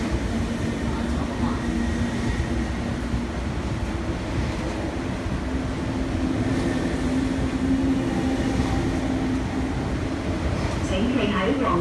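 An MTR East Rail Line non-stopping train rumbles steadily through Sheung Shui station, a sustained loud roar of wheels and carriages with a faint squeal near the end.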